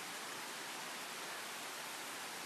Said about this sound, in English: I believe this is part of the waterfall cascade